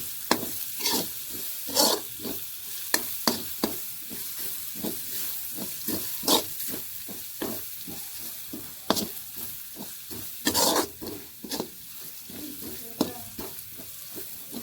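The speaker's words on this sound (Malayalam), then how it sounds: "ഇഞ്ചി വെളുത്തുള്ളി പേസ്റ്റ് ഇട്ടിട്ട് നല്ലതുപോലെ ഇളക്കി കൊടുക്കണം." Ginger garlic paste frying in a pan for chicken curry is stirred with repeated sharp scrapes and clacks of a utensil against the pan, over a low sizzle, with no voices.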